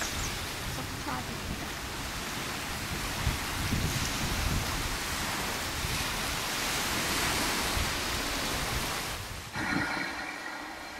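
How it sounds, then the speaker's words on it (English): Strong wind roars across an island in Australia, a dense, loud rushing with gusty surges that sounds almost cyclonic, easing and changing character near the end. "Just listen to the wind in this piece of video. It's somewhat like a cyclonic sound."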